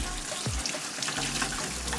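Tap water runs steadily over raw chicken pieces being rinsed in a kitchen sink, a continuous hiss and splash with small shifts as the pieces move under the stream.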